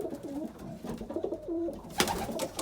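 A pigeon coos softly in a loft, a few low throaty warbling calls in a short rhythmic phrase, followed by a sharp rustle or clatter near the end.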